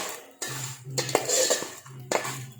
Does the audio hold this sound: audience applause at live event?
no